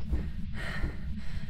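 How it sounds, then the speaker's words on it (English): A man out of breath while playing the ghost-hunting game Phasmophobia, with heavy, ragged breaths and snorting exhales close to the microphone over a low background rumble, briefly and with no talking. "that sound you're hearing of breath is me running out of breath"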